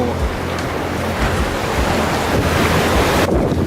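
Pacific surf in Los Angeles while wading into the ocean, a continuous rushing wash of waves with heavy wind buffeting on the microphone, close and loud throughout.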